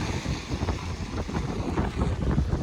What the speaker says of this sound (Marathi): इथं वारं एवढं भयानक वाहत आहे